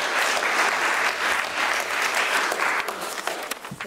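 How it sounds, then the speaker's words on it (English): A full audience claps for a forum panel, loud and continuous throughout, thinning slightly toward the end with a few sharper individual claps. "Can I get a round of applause for our panelists,"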